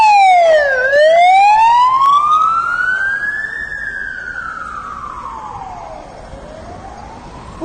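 An ambulance siren wails loud and close as it passes on a street, its pitch sweeping up and down with a sharp drop around the passby, then fading slightly into the distance.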